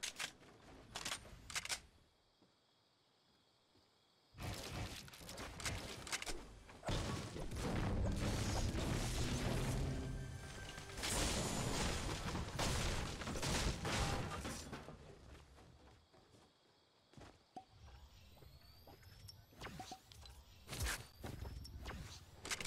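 Rapid clattering bursts of structure-building in Fortnite during a match, with dense crunchy impacts and mechanical clicks packed into several long busts separated by brief quieter gaps, loud and close throughout.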